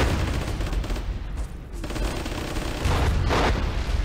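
Gunfire from the Flash game Warfare 1944 sounds as loud, continuous bursts and rumbling volleys, a dense battlefield barrage with brief dips in intensity.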